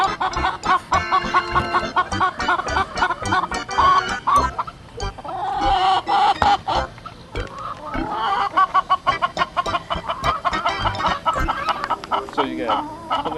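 Friendly Plymouth Rock chickens in a community garden, clucking close and busily in short repeated bursts while people talk over them.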